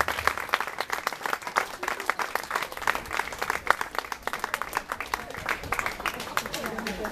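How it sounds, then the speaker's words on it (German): Audience applause for a show's performers, brisk clapping that is fairly distant and moderately quiet, with speech running over it. "Das ist nochmal ein Applaus für alle."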